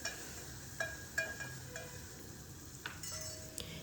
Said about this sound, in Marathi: आता याच्यामध्ये एक टॉमॅटो घालायचा तर एक मोठा मी टॉमॅटो घेतला तो बारीक चिरून घेतला आहे तुम्ही व्यवस्थित हा परतून घ्यायचा आहे